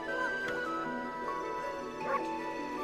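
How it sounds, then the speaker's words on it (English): A wolf character in the Okami video game barks a few times, faint short yips over a steady bed of game music. "So instead I barked."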